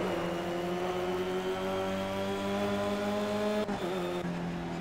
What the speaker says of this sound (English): usually you're not trying to talk over an engine sound